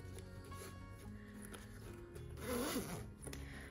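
Zipper on a handmade crossbody purse being pulled open or closed, a steady rasping slide that swells briefly near the end of the clip, close and fairly quiet with no talking.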